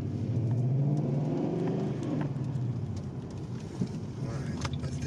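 Old Ford Mustang with 4.10 gears, its engine giving a deep, steady low rumble that holds close and loud, easing slightly toward the end.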